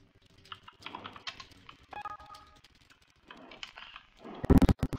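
Keys clatter on a computer keyboard in scattered bursts of close tapping during a Roblox game session, ending with several loud sharp key strikes.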